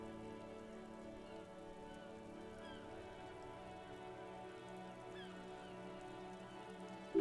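Steady rain patters on a woodshed roof in the game Disco Elysium: The Final Cut, a dense, even wash of drops with a low tonal hum underneath, continuous throughout.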